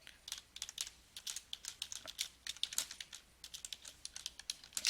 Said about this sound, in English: You will type your street address including the number.